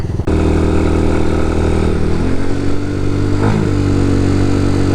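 An RPS Condor 250cc motorcycle with a modified stock exhaust runs steadily up close, a loud continuous engine drone with slight pitch shifts as the revs rise and dip, no voices present.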